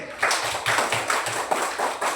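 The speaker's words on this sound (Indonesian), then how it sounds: "Tepuk tangan untuk Pak Im." A small group in a classroom-style learning session claps for Pak Im, a short burst of rhythmic, fairly close hand claps with a loose steady beat.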